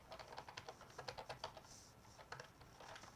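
Rapid, uneven clicking of keys on a computer keyboard as a chat message is typed, close and fairly quiet, with no voices.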